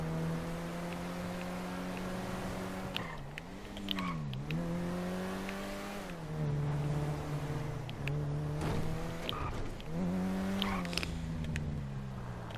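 A car driving in the video game GTA V, its engine droning steadily with rising and falling pitch as it accelerates and eases off, a continuous loud hum running throughout with a few brief sharper clicks.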